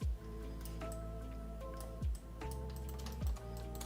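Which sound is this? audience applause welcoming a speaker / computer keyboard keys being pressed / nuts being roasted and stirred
computer keyboard keys being pressed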